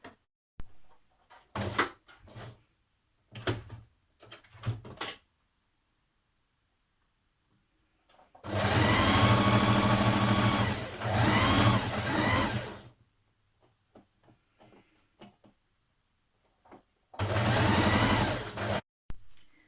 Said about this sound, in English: So we're going to stitch that together now.